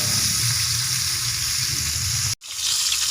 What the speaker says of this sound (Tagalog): piniprito ko na muna yung aking bangus bago silagyan ng